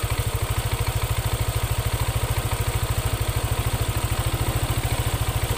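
A motorcycle engine idling with a ticking fault, a steady fast mechanical tick-tick clatter over a low, even engine drone, close and loud with no talk.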